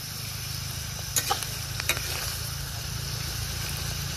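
Food sizzles steadily in a pan as a metal spatula stirs it during outdoor cooking on a fishing trip, with a constant frying hiss and a few sharp scraping clicks near the middle.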